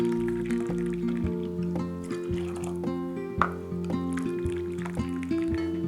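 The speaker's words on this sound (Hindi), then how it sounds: "मैं इसमें 3 कप पानी के डाल रही हूँ" Boiled water is poured into a cooking pot with a steady liquid gurgle and splashing, close and moderately loud, with small drips and clinks and no talking.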